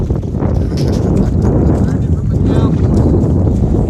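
Horse hooves clopping and splashing through muddy puddles outdoors, steady close footfalls with wet slaps under continuous wind noise, loud throughout.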